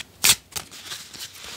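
Tarot cards shuffled for a reading, heard as one sharp riffle burst followed by a softer second flick and a faint papery rustle trailing off.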